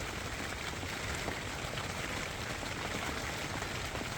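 Rain falls steadily on a tent pitched among trees on a wet morning after a night of rain, a constant soft hiss of drops with no break and no voices.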